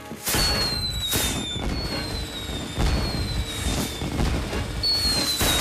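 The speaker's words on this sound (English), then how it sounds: "fireworks." Cartoon fireworks whistle upward and burst in a rapid string of loud booms and crackles, with several rising whistles over continuous noisy bangs.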